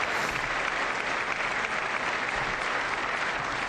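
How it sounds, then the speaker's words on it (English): Members of Congress applaud at a State of the Union address given by Donald Trump, a dense, steady wash of clapping that holds at an even loudness from start to finish with no voices rising above it. "I wasn't sure if anybody even on this side was going to applaud for that"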